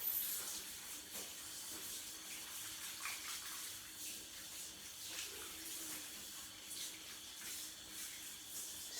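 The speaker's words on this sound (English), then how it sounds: "So let me turn the shower back on." Shower water running steadily for hair rinsing, a soft continuous hiss and patter at moderate level with no talk.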